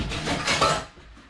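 Dishes, pots and cutlery being washed make a brief, close clatter and clink of metal and crockery that fades quickly.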